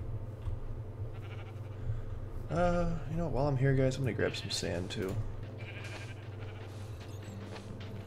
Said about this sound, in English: So I have to be careful of sheep in that area now. I hear them.